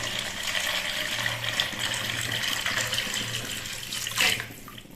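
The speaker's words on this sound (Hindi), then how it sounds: "ये 3 गिलास मैंने पानी नाप के रख लिया था। अब मैं ये इसमें डाल दूंगी।" Water poured from a glass into a pot of soaked rice for chicken pulao, a steady splashing stream lasting several seconds with a brief louder gush near the end, alone without talk.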